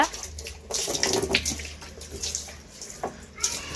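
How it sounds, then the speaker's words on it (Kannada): Running tap water rinses a washed vessel in a steady, close gush, with splashes and brief louder surges as the container is handled under the stream. "ಈಗ ಇನ್ನೊಂದ್ಸರಿ ನೀರು ಬಿಟ್ಟು ಇವನ್ನ ಚೆಲ್ಬಿಡ್ತೀನಿ"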